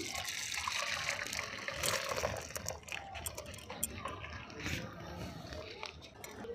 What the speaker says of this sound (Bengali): ছানাটা আমি কিছু সময় বেঁধে রাখবো জলটা ঝরার জন্য।